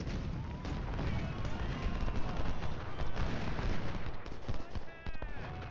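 Artillery and musket fire from the Ultimate General Civil War battle game rolls on without pause, a dense, loud barrage of overlapping booms and crackling shots with no quiet gaps.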